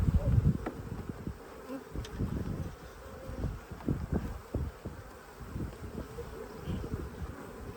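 Honeybees buzz steadily around an open hive during rapeseed season, a close, continuous drone with frequent bursts as bees fly past, no talking.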